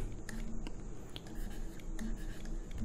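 Hand-writing of an equation, a soft continuous scratching of pen or marker strokes with faint taps, close and quiet.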